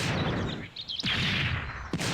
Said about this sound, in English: So look at the size of that explosion,